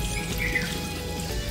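Water splashes and trickles over an Honor X9b smartphone, a steady, close running-water wash like a faucet stream with a few faint drips, and no voices.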